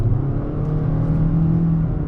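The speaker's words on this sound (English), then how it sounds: "I'm just gonna slam down on the accelerator and see how long it takes the engine to catch up." A 2021 Toyota Corolla engine revs under hard acceleration from inside the cabin, a steady low drone with a rising tonal whine. It is loud and continuous, with no talking.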